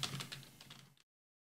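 Soft, muffled typing on a quiet gaming keyboard, a quick run of dull keystrokes lasting about a second before it falls silent.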